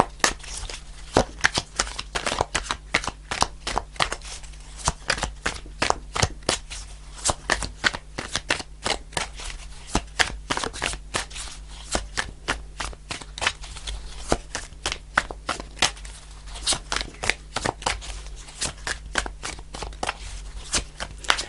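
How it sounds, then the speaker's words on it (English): Tarot cards are shuffled continuously at close range, a steady rapid riffling and slapping that repeats in quick rhythmic bursts throughout, with faint murmuring underneath. "I'll do a couple more shuffles"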